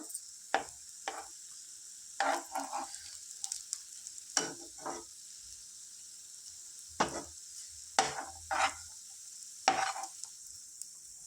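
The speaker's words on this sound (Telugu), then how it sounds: "వీటిని చక్కగా గోల్డ్ కలర్ వచ్చే వరకు ఫ్రై చేసుకుందాం ఫ్రెండ్స్ ఇవి స్లోగా తిప్పేసుకుందాం ఇలా" Pieces frying in a pan over medium gas heat as they are slowly turned until golden on both sides, with intermittent scraping stir strokes over a steady high sizzle, no talk.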